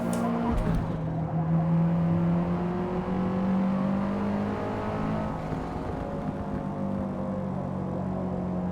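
A racing car engine in Forza Motorsport hums and revs steadily at moderate volume through a corner, with a brief sharp noise at the start and no talking.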